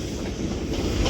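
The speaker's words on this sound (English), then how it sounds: "And then another HST at the rear, 43025, Exeter." An HST Intercity 125 train rolls past at Crewe on the West Coast Main Line, a brief close rumble with rhythmic wheel clatter and wind buffeting.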